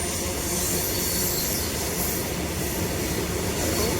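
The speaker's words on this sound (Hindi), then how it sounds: "ये देखो जी जा रही है ट्रेन।" A long freight train of 80 to 90 wagons rolls past nearby, a loud, continuous rumble and rattle of wheels on rail with some metallic squeal, steady throughout and with no voices.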